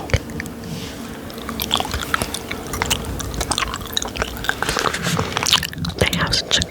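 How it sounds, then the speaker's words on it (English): Clear pink gummy candies are chewed close to the microphone in an ASMR setting. Constant wet squishing and biting sounds run throughout, mixed with soft whispered speech. "They have such a good chew."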